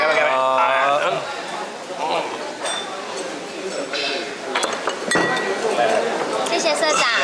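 Glasses clink together in a toast during a gathering in a newly decorated home, a few bright sharp chinks rising over people talking and chattering close by.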